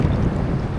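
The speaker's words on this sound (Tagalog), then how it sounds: "Napakahangin dito. Sapok ng hangin." Strong wind buffeting the microphone on a beach at Costa Dorada beside a rough Atlantic-facing sea, a continuous low roaring rumble with no pauses, loud and close.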